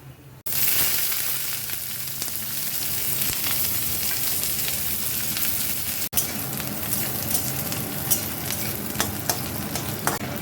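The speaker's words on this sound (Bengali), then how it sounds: "এবারে ফোড়নে দেব কালো জিরে আর শুকনো লঙ্কা, তেজপাতা। প্রথমে দেব কেটে রাখা পেঁয়াজ।" Chopped onion hits hot oil with black cumin, dried red chilli and bay leaf for aloo posto, bursting into a loud, constant sizzle that briefly drops out midway and returns with faint stirring clicks.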